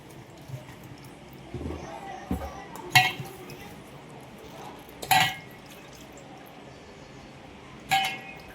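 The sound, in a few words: washing drumsticks in water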